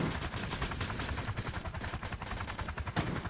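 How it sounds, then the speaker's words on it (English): Rapid automatic AK rifle fire in the Roblox game Polybattle, a fast, even stream of sharp shots lasting over three seconds at moderate volume, with one louder crack near the end. "He's shooting this right, AK at me, dude."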